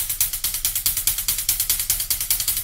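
Drum roll played with a too-thin second note, a fast, even series of crisp close strokes in a steady pulsing rhythm lasting a few seconds, no voices.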